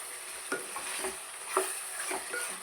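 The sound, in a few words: stirring chicken liver curry in a pan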